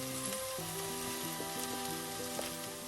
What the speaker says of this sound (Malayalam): ഹൈ ഫ്ലെയിമിൽ തന്നെ ഫ്രൈ ആവട്ടെ.